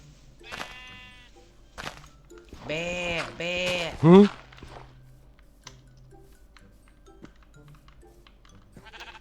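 A pink sheep in Minecraft gives a few wavering bleats, with a brief pair in quick succession at the middle, amid sparse game clicks and footsteps. A player's voice seems to come in faintly.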